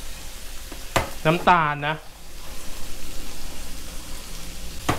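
Squid with holy basil stir-fries in a wok over maximum heat, a steady crackling sizzle running throughout with a stirring clatter near the start, while a voice speaks briefly over it.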